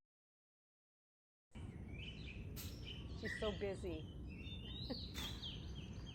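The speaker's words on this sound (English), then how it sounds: "Listen to the birds." Birds chirp and tweet in short bursts in the background while a person talks over steady outdoor ambience.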